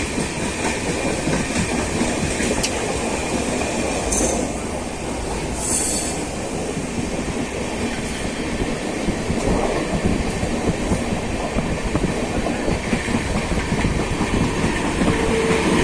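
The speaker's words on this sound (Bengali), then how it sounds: "আমাদের ট্রেনটা বাস দিয়ে স্পিডে বেরিয়ে যাচ্ছে জোর স্পিড নিয়েছে এখন" An express train roars past at speed, loud and continuous rumbling with rhythmic wheel clatter and brief high squeals throughout.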